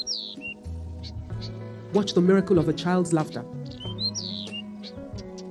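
Small birds chirp in short, bright bursts at the beginning and end, with someone speaking loudly in between.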